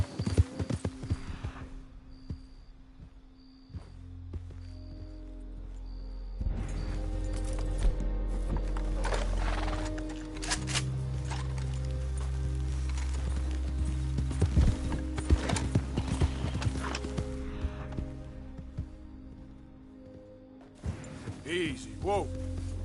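Horse hooves clip-clop steadily in a PS4 video game, a loud, rhythmic run of hoofbeats with brief pauses, mixed with game sounds and a rider's occasional voice.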